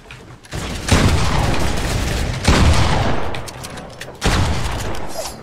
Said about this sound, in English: I'm getting shot in the freaking back